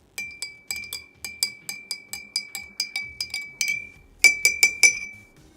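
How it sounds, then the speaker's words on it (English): A spoon clinks against the inside of a glass of water with food coloring again and again in a quick, steady rhythm, bright and close, with a brief pause before a last few taps. "And stirring it with the spoon."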